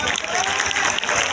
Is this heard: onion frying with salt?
no